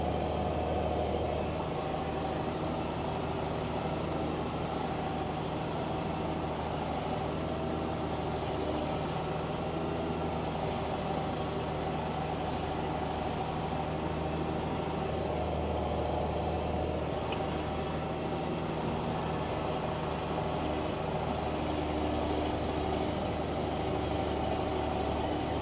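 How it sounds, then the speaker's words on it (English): A three-wheel-drive JCB Fastrac tractor ploughing a field, its engine a loud, steady, unbroken drone that stays constant throughout with no voices over it. "I'm just running on my ploughing now."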